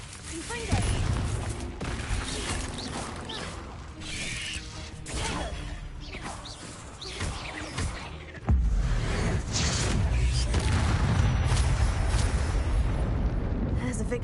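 Confringo blasting spells in combat in Hogwarts Legacy: dense, crackling bursts and rumbling blasts layered with battle noise, which jump to a louder, sustained roar about halfway through.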